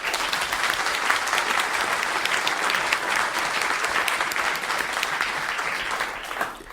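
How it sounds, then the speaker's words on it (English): A live studio audience gives a sustained round of applause, dense and even clapping from many hands that holds steady and then tapers slightly at the end. "Please give yourselves a round of applause."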